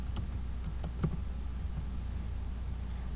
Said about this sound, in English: type in PuppyLinux